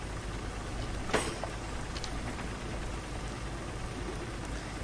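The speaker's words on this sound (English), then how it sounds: "It is raining" Steady rain falling at Oxford station in the Train Sim 2020 game, a constant even hiss with one brief sharper patter near the start, no talking.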